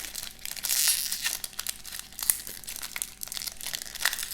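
Foil booster packs of the 1997 Lord of the Rings Dragons trading card game being torn open and crinkled by hand, close and crisp, with bursts of crackling and rustling throughout.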